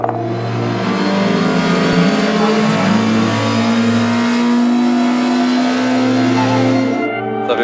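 A Renault 11 rally car engine runs close by, revving up and dropping back several times in uneven bursts over a rough, loud idle.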